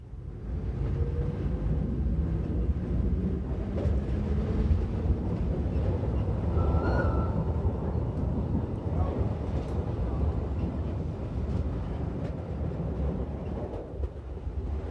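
A Rhaetian Railway train running on the Albula Line in the Swiss Alps, a steady rumbling roar heard from on board that continues evenly without breaks.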